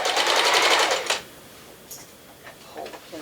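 A sewing machine stitches a bedspread banyan robe in a close, loud whirring burst of about a second, then stops, leaving quiet room tone with a few faint clicks and handling sounds.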